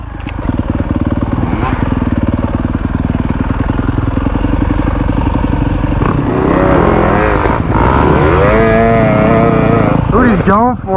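Enduro dirt bike engine running loud and close, a raspy buzzing idle that rises into revving bursts toward the end, with voices talking over it.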